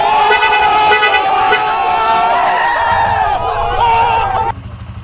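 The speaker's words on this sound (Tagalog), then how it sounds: "Stock horn." A stock car horn blares in a long sustained honk with a couple of short toots before it, loud and close, cutting off near the end.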